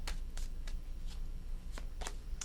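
Tarot cards being shuffled by hand, a series of short crisp riffling bursts spaced irregularly over a low steady room hum.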